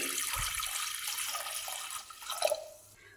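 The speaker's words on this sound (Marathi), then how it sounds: "याच्यात पाणी ओतून घ्यायचं कुकरमध्ये" Water splashes and trickles into a pressure cooker, a steady close pour that tapers off near the end.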